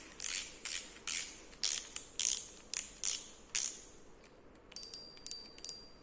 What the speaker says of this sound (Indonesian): kemudian kita dengar suara dragnya bagaimana ya.